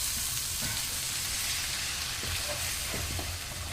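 Pork stew sizzles steadily in a sauté pan as it is stirred, a dense, continuous frying hiss with soft scraping and bubbling running throughout, close and fairly loud.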